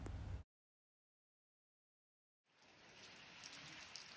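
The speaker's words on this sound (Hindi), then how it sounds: "दोस्तों जैसा कि आप सुन पा रहे हैं यहाँ बारिश हो रही है" Steady rain patters in the Sainj Valley of the Himalayas in winter after a brief burst of noise and a long silent gap, soft and continuous with a faint high-pitched hum above it.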